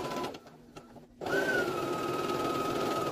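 A sewing machine stitches a fabric core onto the back of a cloth pad topper, running in a steady, close, continuous whir after a brief quiet start, with no talking.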